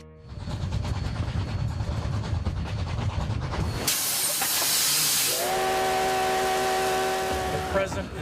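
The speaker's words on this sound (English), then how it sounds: "A coal-fired steam train rumbles through the wide-open prairie of the American West." A coal-fired steam train on the open prairie chuffs in rapid rhythmic beats, then bursts into a loud rush of hissing steam, and a steady steam whistle sounds over the hiss near the end.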